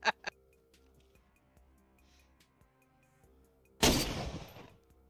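Gunfire in the survival shooter DayZ. Two sharp shots crack right at the start, then comes a quiet stretch with faint clicks, and a loud burst of rough noise erupts near the end and slowly fades.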